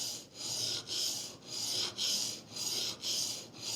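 A chisel bevel scrapes back and forth on a sharpening stone in steady, close rasping strokes, about six passes with brief breaks between them and no talk.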